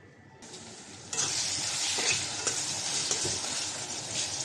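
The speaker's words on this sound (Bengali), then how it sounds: "পেঁয়াজটা হালকাভাবে একটু ভেজে নেব।" Onions in hot oil in a kadai wok break into a loud, steady sizzle after a quiet start, with stirring scrapes through the frying.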